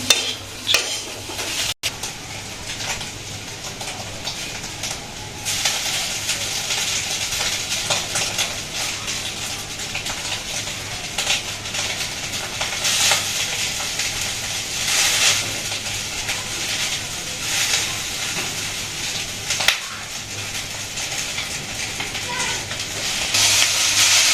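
Egg and potatoes fry in a pan with a steady, close sizzle and hiss, broken by occasional stirring and scraping, while voices talk over it now and then.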